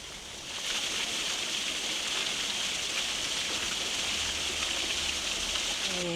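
A waterfall in the Maine woods roars as a steady, dense wash of falling water, close and constant from start to finish, with no voices heard.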